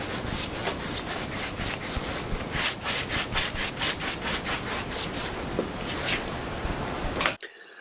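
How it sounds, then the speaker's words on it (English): Sandpaper rubbed by hand over filled screw holes on a wooden shelf, brisk rhythmic back-and-forth scratching strokes close up, loud and steady before stopping abruptly. "all the screw holes get a quick squeeze of filler, followed by a rub over with some sandpaper"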